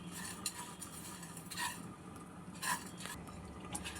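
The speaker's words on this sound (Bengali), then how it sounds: "এটা আমি নাড়াচাড়া করে কিছুক্ষণ শুকনো খোলায় ভেজে নেব।" Dry chillies and spices roasted in a dry pan, with a utensil scraping and stirring in a few brief clinks and scrapes over a low, steady background; no talking.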